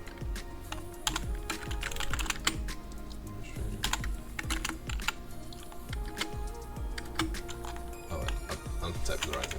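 Rapid keystrokes clatter on a computer keyboard in uneven bursts, close and fairly quiet, while someone talks over the typing.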